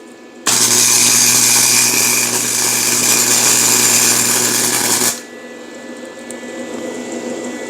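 A MIG welder running a bead on metal with sparks flying, a loud, steady crackling buzz close by for about five seconds that cuts off abruptly into quiet hum.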